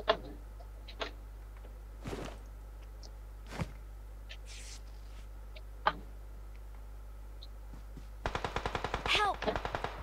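Shotgun fire in a multiplayer shooter video game: scattered sharp single shots spaced a second or two apart, then a rapid burst of close, loud shots near the end.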